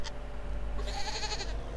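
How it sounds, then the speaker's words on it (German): Goats bleating on a farm in the game Farming Simulator 17, one quavering bleat of about a second standing out over a low steady background hum. "Das sind Schafe und Ziegen."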